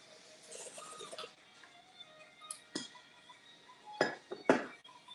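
Glasses clink together in a toast during a home cooking session, a few sharp bright chinks near the end after softer handling noises, fairly quiet overall.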